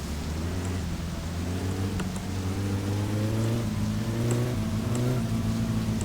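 Car engine in the driving game My Summer Car revving high in first gear, a loud steady drone with rising tonal harmonics that climb as the revs build, heard alone without talk.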